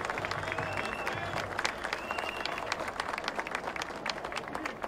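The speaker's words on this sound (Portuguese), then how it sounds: "pedir um salve de palmas" A crowd at a rally in defense of Petrobras applauds steadily, dense clapping filling the space at moderate loudness, with a faint murmur of voices underneath.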